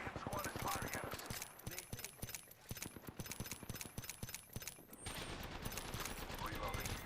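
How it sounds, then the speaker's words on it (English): Rapid bursts of enemy squad gunfire in a shooter video game, dense repeated shots crackling loudly throughout, with a brief shift to a steadier wash of fire near the end; game voice lines are heard alongside. "The second squad is firing at us."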